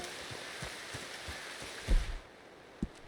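Rain falling in the Red Dead Redemption 2 game world hisses as a soft, steady patter, with faint low thuds and a brief louder bump partway through.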